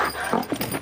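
A dog barking and whining during a British armed police stop of a crossbow-wielding man, a short agitated burst up close, loud, no clear talk.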